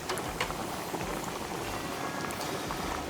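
Chicken tenders frying in hot oil in a pan give off a dense, steady crackle and sizzle of popping bubbles that holds a constant level throughout, with no voices.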